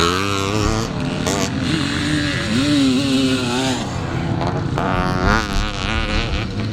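A vintage Honda CR250 Elsinore two-stroke motocross bike races at a classic scramble event, its engine wailing steadily close by and rising and falling in pitch, with other machines buzzing in the background.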